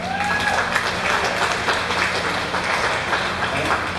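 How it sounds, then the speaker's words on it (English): Applause from a room of food competitors at the opening bacon round of a cooking championship, steady broadband clapping filling about four seconds, with a few voices and faint whistles mixed in. "so give yourself a round of applause for that."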